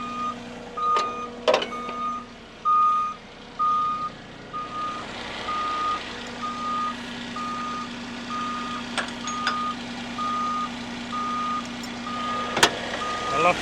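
A Moffett truck-mounted forklift emitting repeated evenly spaced warning beeps while it operates, with a low engine hum and occasional clunks and rattles of the machinery.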